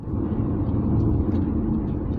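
Lexus LS400 saloon accelerating hard with its engine note rising in a steady, loud rumble, tyres spinning briefly as it pulls away, heard from close by without any talk.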